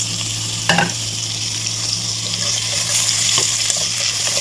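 Seeds dropped into hot oil in a cooking pan, alongside carrots being cooked for rice, give a steady close sizzle and crackle with a brief splash of stirring at the start, continuous throughout.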